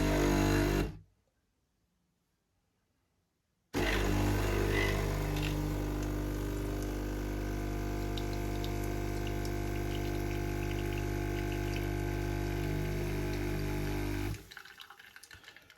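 A DeLonghi EC 685 espresso machine pumps water through for a single cup, a loud steady humming drone that starts abruptly after a brief silence, runs for about ten seconds, then cuts off to faint dripping.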